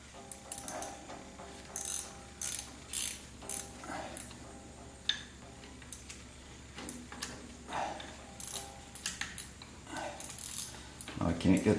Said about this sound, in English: I can't get the wrench out because I've got the bolt loose.